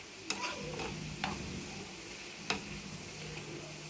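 Garlic pieces frying in hot oil as a tempering for gongura pickle, a soft steady sizzle with a few sharp stirring clicks of a spoon against the pan, close by and fairly quiet.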